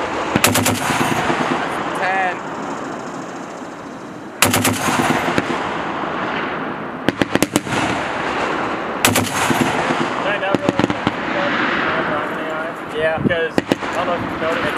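An M2 machine gun fires at a live fire event at Fort Indiantown Gap, with loud, sharp repeated bursts echoing across the range and voices talking between them.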